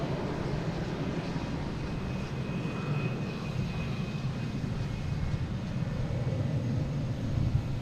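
A United Boeing 737-900 jet at Boston Logan airport, its engines roaring in a steady, broad rumble that holds at an even loudness with no voices.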